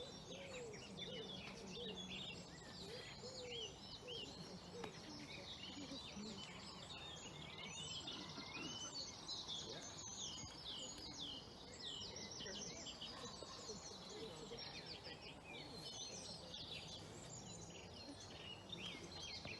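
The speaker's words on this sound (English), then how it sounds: "Wood pigeon again as well." A wood pigeon coos softly within a busy April dawn chorus, with willow warbler, blackcap and other songbirds chirping and trilling densely throughout.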